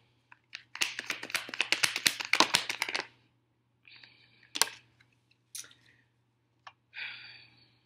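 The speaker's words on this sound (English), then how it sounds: "I'm going to have to shuffle on the table." Tarot cards shuffled on a table, a close quick burst of riffling flutters and taps followed by a few separate slaps and brief rustles in an otherwise quiet room with a low hum.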